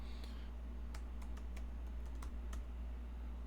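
Keys on a computer keyboard are tapped in a short burst of quick, crisp, uneven clicks, close up and fairly quiet over a low steady hum, with a brief pause partway through.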